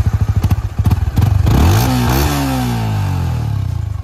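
Yamaha R15 V4 motorcycle exhaust note, close and loud: a few sharp throttle blips, then a long rising rev that holds at high pitch and settles into a steady buzzing drone, with no talking.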